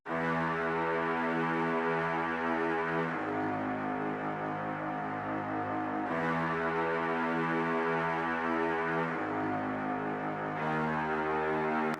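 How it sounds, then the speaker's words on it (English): Two low bowed cellos play together in smooth, sustained notes, shifting chords every few seconds with a steady, full tone and no voices. "together, those two cellos sound like this"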